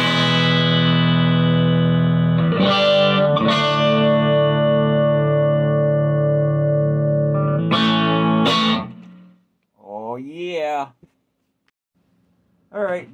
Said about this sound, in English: Tube Screamer, a little bit of reverb, that's it.